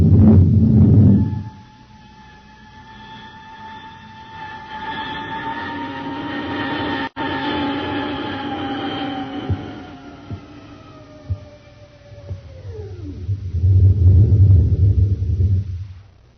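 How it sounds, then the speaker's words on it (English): A spaceship comes in for a landing: a loud low rumble gives way to a sustained hum with descending whining tones that sweep downward, then the heavy rumble returns. "We're coming in for a landing."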